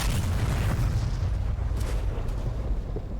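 Bombs dropped by an F-15E Strike Eagle in DCS World hit a port target, producing a deep, continuous rumbling explosion that stays loud and heavy for about three seconds, with no talking over it.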